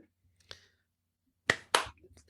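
A few sharp finger snaps ring out in near silence, one lone snap followed by a quick pair close together, crisp and close, with a faint voice trailing after.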